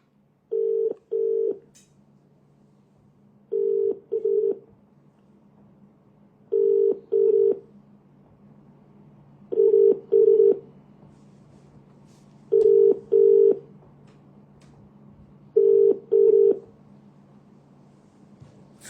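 Phone call being placed and left unanswered: paired ringback tones repeat about every three seconds over a faint steady line hum, six cycles with no voices.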